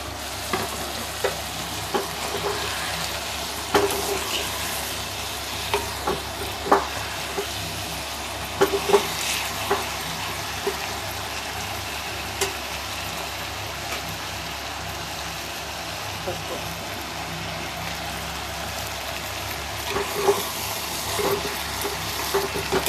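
Okra frying in a pan gives a steady, close sizzle, with intermittent scraping stirs and small clinks throughout, and nobody speaks.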